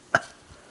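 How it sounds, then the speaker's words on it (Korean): A single short, sharp cough close by, followed by quiet room tone. "이 중간중간 기침 때문에 이게 민망해요"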